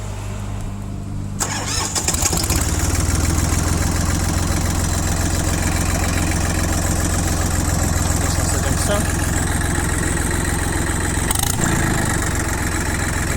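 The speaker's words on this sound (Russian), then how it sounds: "Давайте трактор запустим и посмотрим, как он работает." A Yanmar FX22D compact diesel tractor engine cranks and catches after a quiet opening, then settles into a steady, loud, close idle with a continuous low chugging rumble that runs to the end.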